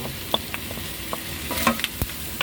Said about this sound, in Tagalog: Maglalagay din po tayo ng bagoong alamang.